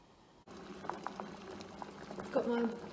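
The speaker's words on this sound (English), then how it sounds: "I've got my potatoes boiling away" Potatoes boil in a pot of water on a medium to high heat, a steady soft bubbling with occasional louder pops and gurgles rising toward the end.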